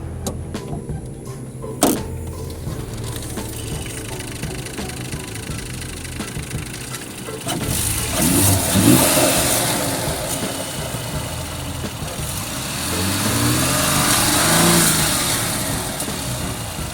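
A Mercedes GLE with an M256 inline-six starts up and then idles, rising twice into strong revs before settling; the engine is loud and close, and no one speaks.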